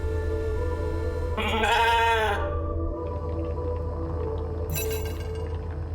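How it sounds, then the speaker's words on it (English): A sheep in the video game The Alters gives one loud, wavering bleat lasting about a second, followed by a quieter shorter cry, over a steady low ambient hum. "It's a sheep."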